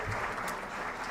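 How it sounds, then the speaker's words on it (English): An audience applauding in the UCC auditorium at a participatory democracy conference in Córdoba, a brief dense wash of clapping from many hands. "Please, a big round of applause."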